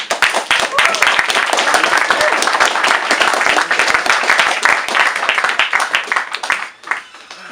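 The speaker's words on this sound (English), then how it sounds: "Connor Cliff, give him a round of applause." An audience at a university politics society talk applauds a speaker, with dense, loud clapping sustained throughout before tapering off at the end.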